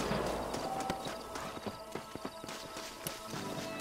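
Horse hooves clip-clop in a Red Dead Redemption game scene, a steady run of close, crisp hoof strikes over a busy background, with a brief whinny-like tone and faint voices now and then.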